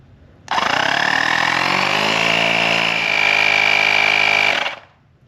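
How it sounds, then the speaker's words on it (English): A portable AUXITO tire inflator air compressor, filling an off-road tire, starts abruptly and runs with a loud, steady buzzing drone for about four seconds, rising slightly near the end before cutting off. "You just hit this on button and it'll start the air compressor"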